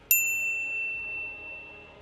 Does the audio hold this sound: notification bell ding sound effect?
yes